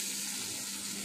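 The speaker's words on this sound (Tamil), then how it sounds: "தாளிச்சது கருவேப்பிலையே இதில் போட்டுக்கிறோம்." Curry leaves sizzling in hot oil as a tempering for banana flower chutney, a dense, steady crackling hiss that stays even and close for the whole brief moment, with no talking.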